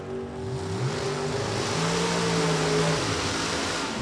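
NHRA drag race car at Beech Bend Raceway accelerating, a rising multi-tone engine roar whose pitches climb and shift over a few seconds, moderately distant and without talking.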